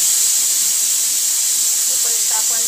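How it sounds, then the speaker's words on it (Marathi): Steam hisses loudly and continuously, like a pressure cooker whistle venting while chicken pulao cooks, a constant high rush with a faint voice surfacing near the end. "कुकरच्या शिट्ट्या होत आहेत"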